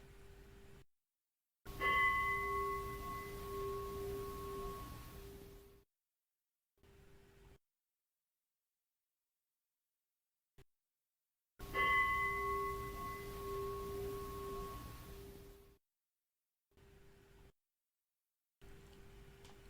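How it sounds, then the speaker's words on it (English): A meditation bell is struck twice, each ring sounding clear and sustained before slowly decaying, the two strikes separated by long stretches of near silence in a quiet room. "Hit pause after the bell."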